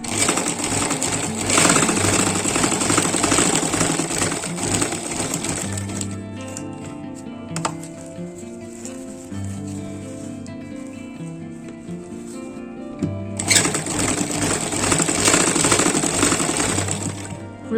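A sewing machine stitches a jute dining table mat in fast rattling bursts, running at the start, pausing through the middle, then running again near the end.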